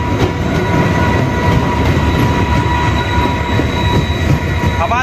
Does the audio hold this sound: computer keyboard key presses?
no